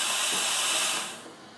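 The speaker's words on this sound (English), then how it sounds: "We're going to turn it back on for a second just to let the head purge." Breville BES870XL espresso machine purging its steam wand, a loud steady hiss of escaping steam that holds strong and then tapers slightly toward the end, with no voices.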